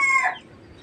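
A young mestizo labuyo rooster lets out the brief tail end of a crow, close and clear, fading quickly into quiet.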